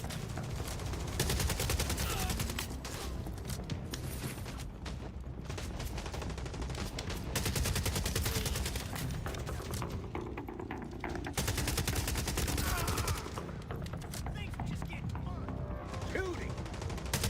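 Rapid bursts of automatic gunfire from a Call of Duty Warzone Resurgence match, dense and sustained through the stretch, with a player talking over the shooting.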